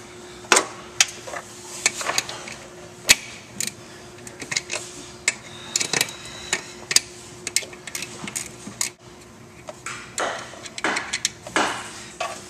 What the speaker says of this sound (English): Now I'm going to use a 12mm gear wrench to remove the bolts and remove the master cylinder from the vacuum.